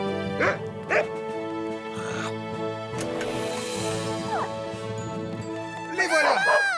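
Cartoon dogs Radar and Ombrage from a firefighter animation barking and yipping several times over background music, near and moderately loud, with voices speaking at the end.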